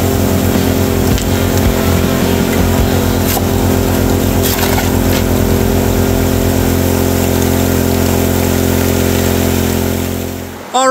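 A gas engine powers a homemade highbanker gold-recovery rig, droning loud and steady close by for nearly the whole stretch before cutting out at the end.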